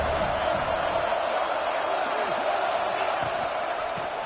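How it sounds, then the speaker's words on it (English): A football stadium crowd cheers during a defensive red-zone stand, a steady, dense roar that holds level throughout, with faint commentary voices mixed underneath. "And the crowd coming to life here, trying to help this defense down in the red zone."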